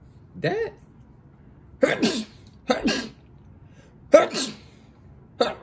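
Several sharp, explosive sneezes burst out close to the microphone at irregular intervals across a few seconds, with quiet gaps between them and a brief spoken word near the start.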